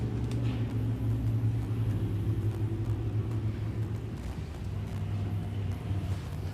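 USRA Limited Modified race cars running hot laps on the Big O Speedway dirt track, a continuous low engine roar and rumble heard from a distance, fairly loud and steady throughout, with no voices.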